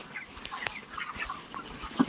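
Chickens in a poultry enclosure give scattered, soft clucks and short calls, quiet and spread through the clip with brief louder squawks near the end.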